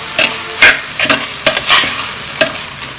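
Grated coconut mixture stirred in a hot pan for an Onam curry: a few crisp scraping strokes of the spoon against the pan over a soft sizzle, close and alone.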